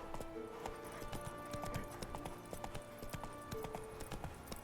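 Hooves of Roach, a horse in The Witcher 3, clip-clop at a steady trotting rhythm, close and clear over game music and ambience.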